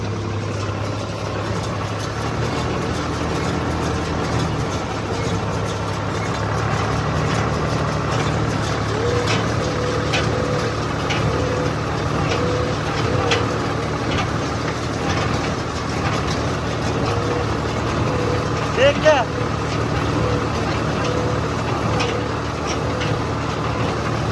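A tractor engine runs steadily during a corn harvest with baling, a continuous droning rumble heard close by at a fairly even level.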